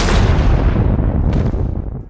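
A loud, booming gunshot in a dramatic film scene, with a heavy blast and rumbling reverberation filling the whole stretch and no speech over it.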